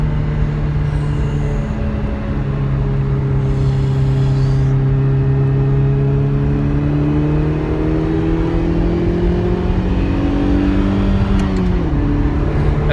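A Ferrari 328 GTS with a five-speed gearbox is heard from inside as its engine pulls hard, the drone climbing steadily in pitch through the gears, loud and continuous with no talk.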